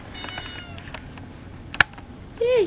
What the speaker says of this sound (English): who's crying outside the door? But a cute little cat.